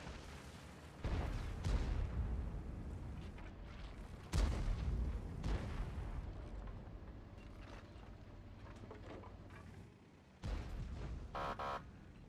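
Several heavy tank cannon booms from a video game fire at irregular intervals, each followed by a rumbling decay over engine noise.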